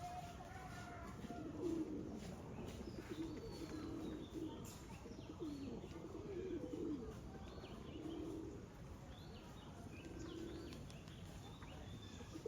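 Pigeons coo repeatedly in soft, rolling phrases over a steady background hum, with faint chirps and no talking.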